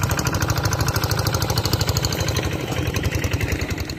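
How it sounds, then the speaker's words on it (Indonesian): A tractor used to haul harvested rice through muddy paddy fields runs with a loud, steady, throbbing engine rhythm close by, without any voices. "pakai traktor muat padi?"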